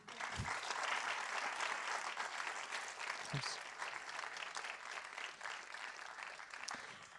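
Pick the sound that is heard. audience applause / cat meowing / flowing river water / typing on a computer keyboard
audience applause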